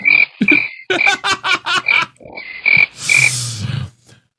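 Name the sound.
crickets sound effect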